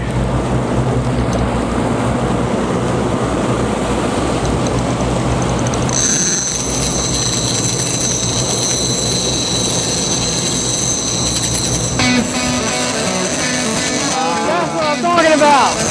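A fishing reel's clicker whines steadily as a bluefin tuna pulls line from it, rising out of loud boat engine rumble and wash about midway and holding to the end.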